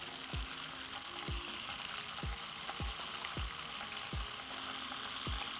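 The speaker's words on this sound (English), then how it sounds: "As you see, it's starting to kind of boil a little bit. This is what you want. It's starting to bubble, it's starting to brown." Butter bubbling and browning in a pan for sourdough oatmeal creme pies, a steady fizzing sizzle broken by regular low thumps as it foams, close and moderately loud with no talking.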